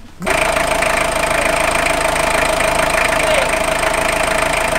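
A car engine idles after a five-hour repair at a workshop in Waingapu, running steady, loud and close with an even mechanical hum and no talk.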